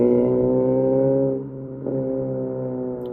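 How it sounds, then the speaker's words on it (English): A car driving by loudly outside with a steady, droning engine tone that rises, briefly shifts and drops, then carries on, heard alone without talk. "That was a car just wilding"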